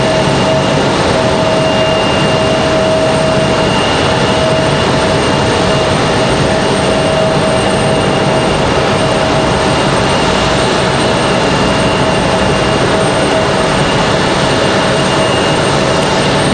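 An airliner taxis toward a gate at Raleigh-Durham airport, giving a loud, unbroken engine roar and whine with steady tones that stays constant for the whole stretch and has no voices over it.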